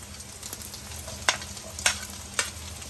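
Sliced capsicum frying in a pan alongside fried egg and carrot, a low steady sizzle broken by a few sharp stirring clicks.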